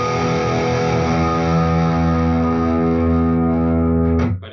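A Charvel So Cal Style 2 ash-body electric guitar with Fluence pickups plays a sustained, heavily distorted classic rock tone, one chord ringing loud for about four seconds before cutting off abruptly.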